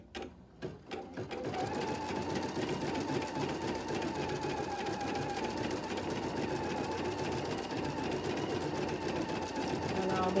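A sewing machine quilting an orange peel design starts with a few stuttering stitches, then settles into a loud, steady, rapid mechanical whir that runs on without a break.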